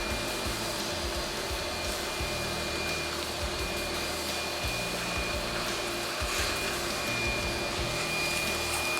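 Disc sander with a loose bearing running continuously in a knife-making shop, a steady high-pitched whine over a low rumbling hum, constant and close with no voices.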